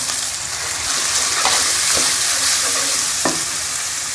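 White chickpeas frying with ginger-garlic paste and spices, a loud continuous sizzle with a few sharp stirring scrapes, close up with no talk.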